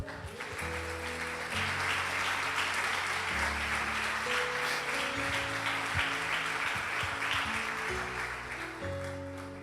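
A church congregation claps steadily and fairly loudly for several seconds, with organ or keyboard chords sustained underneath.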